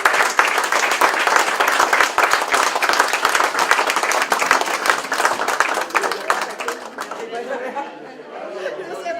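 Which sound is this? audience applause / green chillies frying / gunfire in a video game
audience applause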